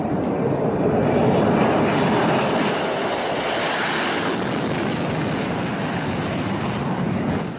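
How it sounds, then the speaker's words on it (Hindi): Indian Air Force fighter jets fly a combat air patrol near the Arunachal border, producing a loud, steady, broadband roar that lasts throughout with no talking. "भारतीय वायुसेना ने अरुणाचल सीमा पर कॉम्बैट एयर पेट्रोलिंग यानी जंगी जहाजें उड़ानी शुरू कर दी।"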